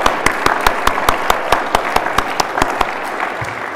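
Conference audience applauding at a defense, security and sensing event: a loud, close field of clapping with distinct sharp individual claps standing out rhythmically over the crowd.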